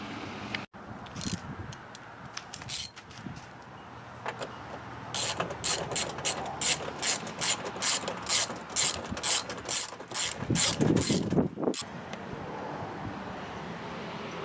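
A ratchet on a 1999 Toyota Tacoma as its air box is reinstalled during a mass airflow sensor replacement: soft handling noises, then several fast, close bursts of crisp clicking in a steady rhythm, ending with a thud.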